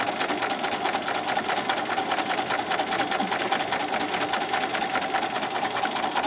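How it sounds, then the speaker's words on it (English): A sewing machine stitches a seam, going forward, back-stitching and then continuing, with a fast, even mechanical whir that runs steadily and close throughout. "I'm going to sew forward a couple of stitches, backwards a couple of stitches, and then just keep going"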